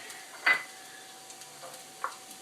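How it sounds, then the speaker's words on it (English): Onions cooking in a pan for mussels, a quiet steady sizzle with two brief scraping clinks of a utensil against the pan, close and faint. "Onions are cooking."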